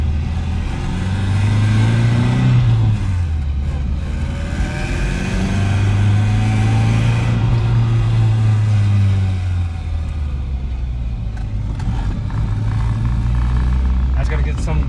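A Nissan S14 with a manual swap and an aggressive clutch pulls through the gears, the engine note climbing and dropping with each shift, loud and close from inside the car as people talk over it.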